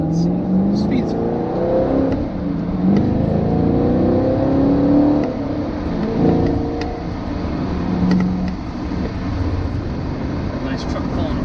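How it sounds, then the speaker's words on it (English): A 2018 Chevrolet Camaro SS 1LE drives and accelerates, its engine note rising and falling through gears as a steady interior road drone, with people talking over it. "This car is such a blast to drive."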